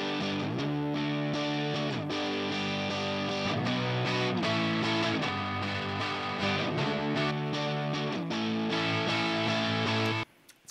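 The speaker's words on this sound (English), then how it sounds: "I've run it through the GarageBand amp designer to emulate that same guitar sound." Electric guitar recorded direct and run through GarageBand's Amp Designer, playing a sustained distorted chord riff with steady, dense tone for about ten seconds before stopping abruptly.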